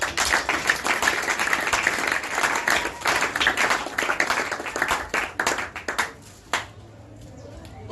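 Congregation in a church applauding and clapping together, a dense, steady wash of many hands that fades out toward the end.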